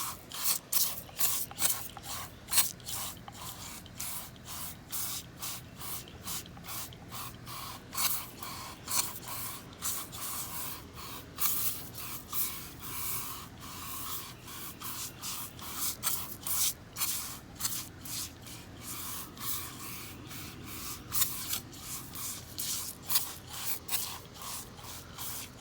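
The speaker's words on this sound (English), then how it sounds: "I'm gonna give it another spray" Repeated short hissing bursts of cleaner sprayed onto an engine, fairly close, fire in a quick uneven rhythm one after another, with no voices.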